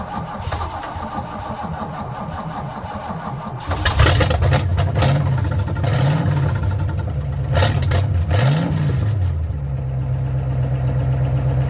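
An engine cranks and catches after an oil change and a new K&N filter, after sitting unused for a couple of months. It then idles loudly and steadily with a few small revs.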